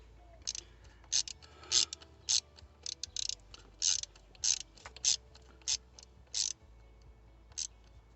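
Ratchet wrench tightening the throttle position sensor bolt on a Cadillac Escalade, a series of close, sharp clicking bursts in short irregular strokes with quiet gaps between them.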